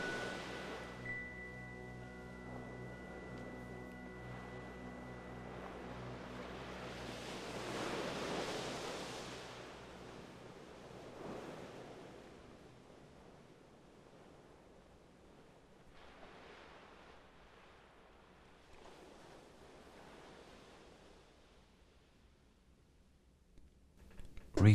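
Ocean waves wash onto a shore in soft, broad swells that rise and fade, quiet and distant, with a faint tonal hum fading out early on.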